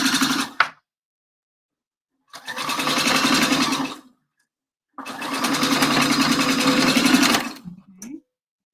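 A sewing machine stitches a 3/8-inch seam on fabric for a round tailor's pressing ham, running in three close bursts: a brief spurt, then a longer hum, then the longest steady run, with quiet gaps between.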